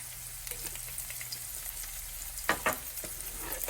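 Quiet sizzling and frying from a pan, with a couple of sharp clinks of a utensil stirring partway through.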